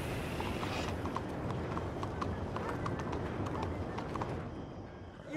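Rhythmic horse hoofbeats clip-clop steadily over a dense rumbling background in Red Dead Redemption 2, with a quick series of hard taps running through the middle.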